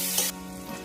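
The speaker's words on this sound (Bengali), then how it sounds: "আলুগুলো ভাজা করে নেব।" Potatoes with salt and turmeric fry in hot oil, a brief, close sizzle lasting under a second.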